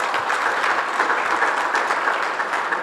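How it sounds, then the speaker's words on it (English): A steady wash of audience applause for panelists on an innovation stage, dense and even throughout, with no voices over it. "Let's give them a round of applause."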